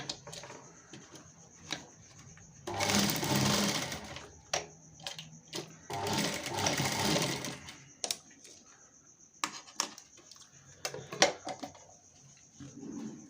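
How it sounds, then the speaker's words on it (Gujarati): A sewing machine stitches fabric for a chaniya choli latkan in two sustained whirring runs, with clicks and handling taps between and after them, close and fairly quiet. "ત્યાર પછી આપણે ઉપર સિલાઈ મારી દેવાની છે।"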